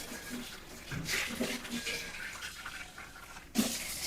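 Water is poured into a mixer jar before grinding, making a soft, faint trickle and splash with light kitchen clatter.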